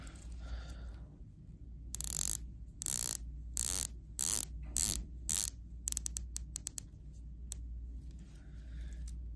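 A Tudor dive watch bezel being turned by hand, a run of crisp close ratcheting clicks in short bursts with quick clusters near the end, against a faint low background hum.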